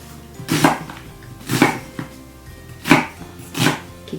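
A knife chops a halved onion into 1 cm strips on a cutting board: four crisp, evenly spaced cuts about a second apart, close up and alone.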